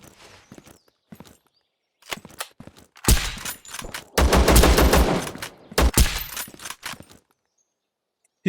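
Gunfire in the video game Zero Sievert: scattered single shots, then dense rapid bursts of automatic fire, loud and close, with brief pauses between volleys.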